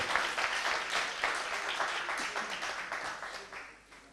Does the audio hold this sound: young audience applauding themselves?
yes